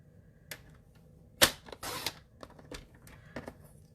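Paper trimmer slicing through cardstock for a folded card, with a few short, crisp cutting and clicking strokes close by, the loudest sharp snap coming early and scattered lighter clacks following.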